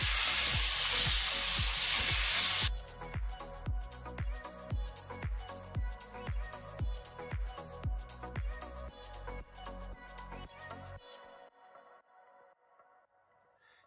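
Chicken breast sizzles loudly in a hot pan at first, then gives way to a steady run of rhythmic clacks from stirring or turning, with a softer sizzle underneath that fades toward the end.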